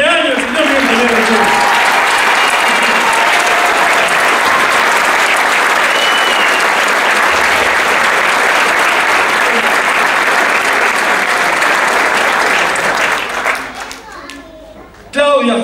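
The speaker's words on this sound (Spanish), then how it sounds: "El agradecimiento por bancar esta curva y el fuerte aplauso que es el cumpleaños del señor Miguel Toledo." Loud, sustained applause from a crowd at a murga performance honoring a man's birthday, steady dense clapping for about thirteen seconds before tapering off, with some children's voices mixed in.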